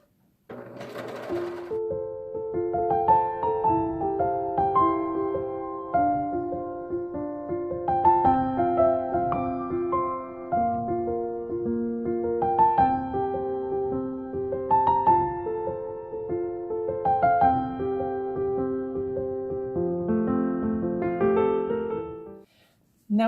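A sewing machine runs a long seam through three layered fabric edges of a circle skirt, its motor whirring in steady bursts that rise and fall in speed, close and unaccompanied by talk.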